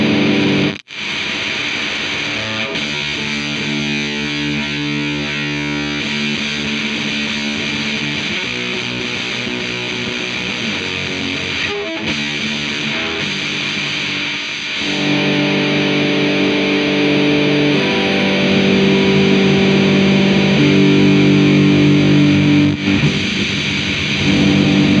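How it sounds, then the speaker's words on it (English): Electric guitar played through a Misfits Static Age fuzz pedal, a thick, sputtering distorted tone like a dying battery, sustained chords and notes ringing loud for about twenty-five seconds with a brief dropout near the start and a fuller, louder passage in the second half. "It sounds like a dying battery in a fuzz pedal or something."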